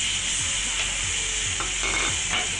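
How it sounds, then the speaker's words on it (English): Minced garlic sizzles steadily in about two tablespoons of olive oil, a close, continuous frying hiss with faint scraping stirs, no voices. "Now, to about 2 tablespoons of olive oil, I'm going to add about 2 tablespoons of freshly minced garlic."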